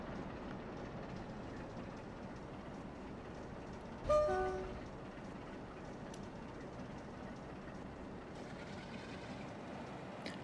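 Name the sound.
train pushing coupled carriages in Trainz Simulator video game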